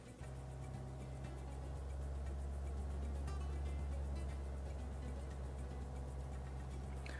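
A 2018 Honda Accord engine held steady at 2000 rpm during a stationary noise test: a low, even idle-like hum with a faint ticking texture, constant and moderately quiet throughout.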